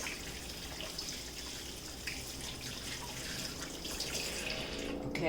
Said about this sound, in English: I'm washing my hand here.